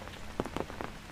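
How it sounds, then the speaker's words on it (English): Heavy rain pattering on surfaces during a morning hike in Hong Kong, a steady close wash with a few louder drops, no voices. "There's a good rain."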